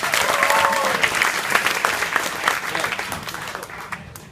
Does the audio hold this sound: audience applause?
yes